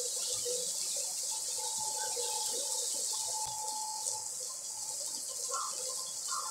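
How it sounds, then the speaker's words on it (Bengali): Water pours steadily into a cooking pot, a continuous hissing splash that runs unbroken for several seconds, close and fairly loud. "একটু জল দিয়ে দিচ্ছি"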